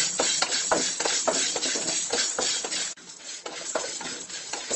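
Dried red chillies roasting in a pan over a medium flame, stirred continuously: a steady run of close scraping and rattling strokes with a brief pause near the three-second mark, no talk.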